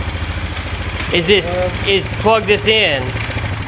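A 2001 Polaris Scrambler 500 2x4 ATV engine idles with a steady, close low rumble, running through the whole stretch while someone talks over it.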